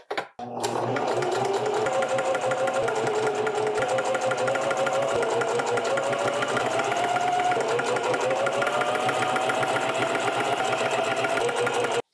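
A sewing machine runs in one steady, unbroken stretch of stitching along the side seams of a t-shirt, a loud close mechanical hum with a fast even whir throughout and no talk.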